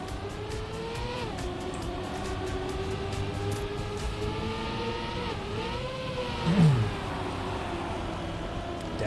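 Racing cars in the Trackmania video game, with steady engine drones rising and falling in pitch as they accelerate, one brief louder swell near the end.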